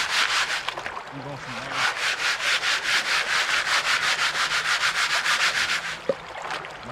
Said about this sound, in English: usually just kind of break it up a little bit and then sift it around a bit